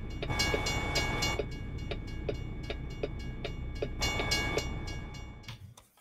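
A train rolls by in American Truck Simulator with steady rhythmic clickety-clack from the wheels over a continuous rumble, fading out at the end.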